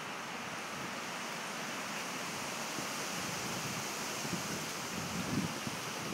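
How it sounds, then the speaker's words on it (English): Strong wind blows outdoors in Las Marias, Puerto Rico, after Hurricane Irma, a constant rushing, hissing buffet of noise with no voices. "the wind's still a little crazy, but it's not really a big deal"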